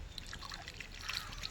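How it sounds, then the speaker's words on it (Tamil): Water is poured onto soil around a newly planted rose in a pot, making a faint, close trickling and dribbling that continues unevenly for a moment. "இப்போ தண்ணி ஊற்றிக்கலாம்."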